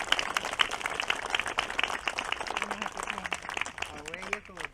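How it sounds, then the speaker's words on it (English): Warm applause from an outdoor memorial gathering at Glandore, broad clapping from a crowd with voices and chatter mixed in, fading toward the end. "So give a nice round warm of applause for Fidelma."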